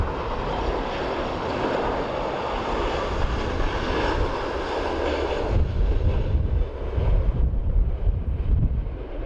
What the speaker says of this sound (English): So this is Aer Lingus in from Charles de Gaulle in Paris.